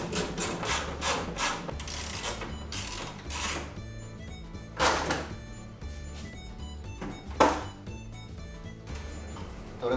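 Metal fender bolts being worked loose on a Caterham Super Seven, a run of scraping, rasping wrench and tool strokes in a workshop with a few sharper clanks, close and fairly steady, with no talking.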